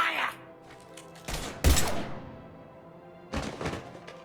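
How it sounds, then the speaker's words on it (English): Gunfire in the video game Mass Effect 3: a few sharp, heavy shots ring out close, each with a decaying tail and gaps between the bursts, over low game ambience. "Now open fire!"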